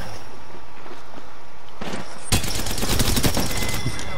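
A player's gun firing in a video game, quiet footsteps and rustle for about two seconds before a sustained, rapid automatic burst that stays loud and continuous to the end.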